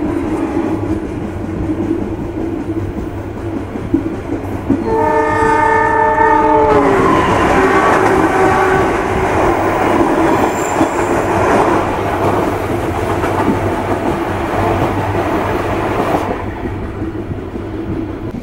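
Gumarang passenger train pulling away from Cepu station, with a loud horn blast around the five-second mark followed by steady close rumble and wheel clatter that fades near the end.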